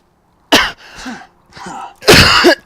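A man coughs while recording game commentary: a sharp, loud cough burst, then shorter throaty coughing and clearing sounds, ending in another strong, harsh cough, all close to the microphone with no speech.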